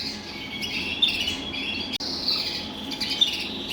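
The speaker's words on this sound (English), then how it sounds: "Another 2020 non-intensive red Isabel cockbird." A young non-intensive red Isabel cock bird, a caged breeding male, gives repeated short chirps and squawks, close and fairly clear, over a soft background with a brief click in the middle.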